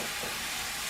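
Diced onion lands in a pan of browning ground turkey, giving a short burst of loud, dense, close sizzling with a steady hiss throughout, no voices.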